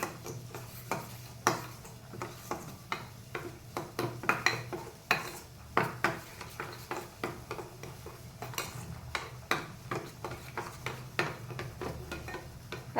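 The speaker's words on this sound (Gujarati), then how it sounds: "ધાણા જીરું એડ કરી દેવાનું, આ મરચું એડ કરી દઈશું, ગરમ મસાલો એડ કરી દેવાનો. હવે આ બધું આપણે મિક્સ કરી લેવાનું બરાબર." A spoon scrapes and taps steadily against a pan while coriander-cumin powder, chili and garam masala are mixed for Rajasthani besan gatte sabji, a close, irregular run of clinks and scrapes with no talk.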